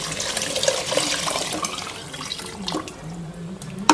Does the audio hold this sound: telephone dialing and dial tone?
no